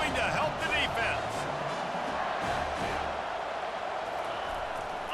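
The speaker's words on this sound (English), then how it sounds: "this crowd is coming to help the defense" A roaring stadium crowd in College Football 25 at an LSU game cheers on the defense before a fourth-and-one play, a steady wash of noise behind an ongoing commentary voice.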